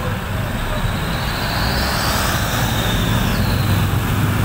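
A long road traffic jam, a loud, continuous roar of idling and creeping vehicles close by, with no clear breaks or distinct horns.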